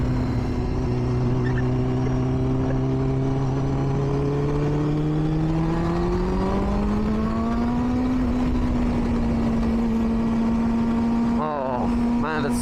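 A 2005 Triumph Daytona 600 motorcycle engine runs loud and steady on the road, its tone slowly rising as it climbs in revs, with a brief rustle of wind near the end.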